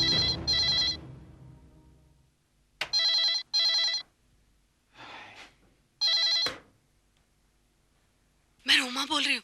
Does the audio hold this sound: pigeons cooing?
no